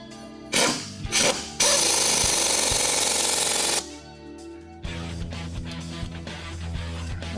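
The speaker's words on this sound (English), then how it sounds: "we've run it down with the impact" An impact wrench drives the steering shaft bolt on a Jeep Wrangler, with a couple of short rattling bursts and then one long, loud hammering run, followed by lower mechanical noise from the work area.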